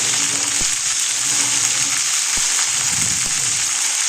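Brinjal for a drumstick curry frying in a pan, a loud, steady, close sizzle throughout with a few faint knocks, no talk.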